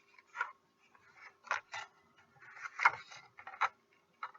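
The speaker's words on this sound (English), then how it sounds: "And I'm going to cut that down to 4" Colorful coordinating paper is cut for a card, a series of short, quiet crisp snips and rustles spaced irregularly close up.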